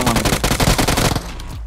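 Uzi submachine gun fire from a distance in BGMI (PUBG Mobile) rattles out as a loud, rapid continuous burst of shots lasting over a second before cutting off.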